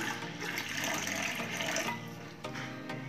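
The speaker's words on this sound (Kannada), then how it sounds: "ಈಗ ನಾನು 1 ಗ್ಲಾಸ್ ನೀರು ತಗೊಳ್ತಾ ಇದ್ದೀನಿ" Water is poured into a glass, a soft, steady splashing and trickling that runs for a few seconds with no talk.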